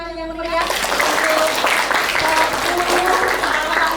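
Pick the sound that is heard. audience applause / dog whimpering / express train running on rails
audience applause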